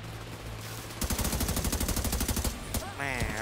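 Automatic gunfire in the shooter game The Division 2, a rapid burst of evenly spaced shots rattling for about a second and a half over steady background game noise, followed by a brief electronic chirp near the end.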